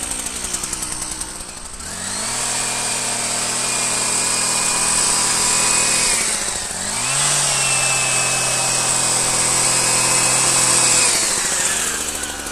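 Powered hedge trimmer cutting a hedge level, a loud, steady buzzing drone running for two long stretches, briefly dipping in pitch and revving back up near the middle, with no talking.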